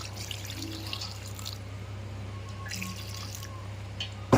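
A faint trickle of water running into a pot of goat head curry, soft and steady over a low hum, ending with a brief louder knock.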